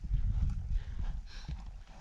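A horse walking in a circle under a rider, its hooves clip-clopping in a dull, irregular rhythm close by, with low rumbling underneath.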